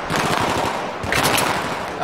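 Loud, rapid automatic gunfire in the video game Battlefield 3 during the Operation Guillotine mission, a dense continuous stream of shots close by, with faint voices mixed in.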